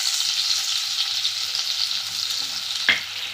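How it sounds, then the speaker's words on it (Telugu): Finely chopped onions and green chillies fry in hot oil for a prawn curry, a steady, close, crackling sizzle with a short scrape of a utensil near the end. "సన్నగా తరిగి పెట్టుకుని ఉల్లిపాయ ముక్కలు వేసేసుకోవాలి"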